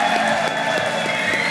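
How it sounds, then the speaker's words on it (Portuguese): A seated audience at a business mentoring talk applauds, a dense steady wash of clapping that carries on loudly for the whole brief moment. "Salva de palmas!"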